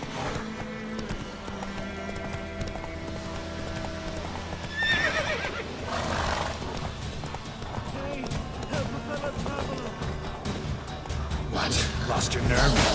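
A horse in the Witcher 3 video game neighs, and its hooves clip-clop steadily in a galloping rhythm, with game voices speaking over the sound.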